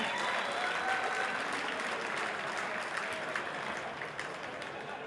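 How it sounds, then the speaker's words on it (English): An arena crowd at an amateur boxing match between Clayton Kerr and Paul Hollinger gives continuous applause for the two fighters, steady and full, tapering slightly toward the end with faint crowd voices mixed in. "How about a round of applause for these two fellas?"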